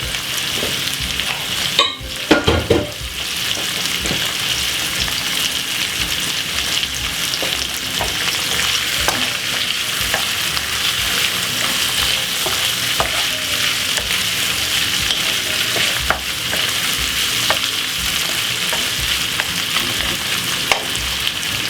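Bacon and brussels sprouts frying on a stove, a steady loud sizzle with occasional scraping stirs near the start, continuous and close with no talking.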